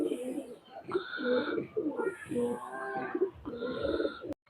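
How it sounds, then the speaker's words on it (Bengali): Pakistani highflyer pigeons in a loft coo close by in soft, rounded, repeated phrases, several overlapping calls running through the clip without speech. "এই যে কবুতর জোড়া।"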